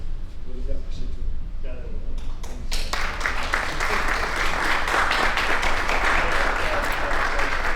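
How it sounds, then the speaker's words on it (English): Audience applause at a foundation gathering, beginning after a short stretch of talk and swelling into dense, sustained clapping that carries on loud and close to the end. "A round of applause for Ntate Moloto again"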